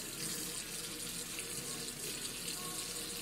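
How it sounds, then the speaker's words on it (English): Water runs steadily from a bathroom sink tap, a continuous close hiss and splash that stays even for a few seconds, with no clear talk over it. "Go shut the water off."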